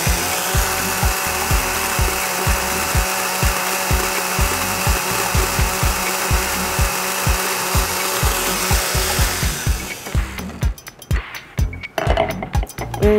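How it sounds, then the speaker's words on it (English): A kitchen blender turning fiber into paper pulp whirs loudly and steadily with a rhythmic chopping rattle, then cuts off near the end, leaving scattered clinks. "Turn on the blender."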